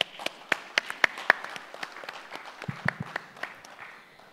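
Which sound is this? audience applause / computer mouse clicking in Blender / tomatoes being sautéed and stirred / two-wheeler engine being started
audience applause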